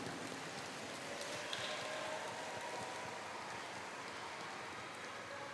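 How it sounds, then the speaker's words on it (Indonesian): Steady rain falls on a surface as a constant close hiss, with no other sounds breaking through. "Tuhan menurunkan rezeki hujan."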